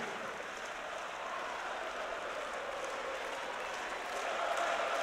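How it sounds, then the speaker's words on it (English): A large crowd at the Royal Arena roars and applauds in a dense, continuous wash of noise that swells toward the end, with a commentator faintly audible underneath. "The crowd has gone absolutely mad here."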